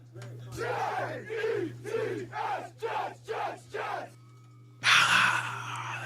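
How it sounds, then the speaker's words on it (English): A crowd sound effect plays in a series of rising and falling roars, each surge a few seconds apart, ending in a loud, bright burst of cheering; a steady low hum runs underneath. "The crowd goes wild."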